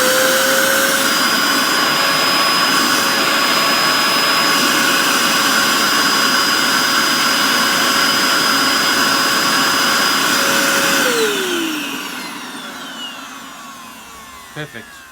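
A Hoover Dust Manager Cyclonic DM6228 vacuum cleaner running loud and close with a steady whining roar, its motor pitch holding level before spinning down as it is switched off near the end.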